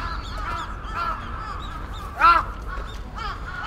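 Crows caw repeatedly in a Tokyo park beside early-blooming cherry trees, several calls at mid distance with one louder, closer caw near the middle, over a low steady outdoor rumble.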